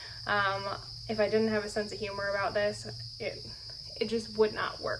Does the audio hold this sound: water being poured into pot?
no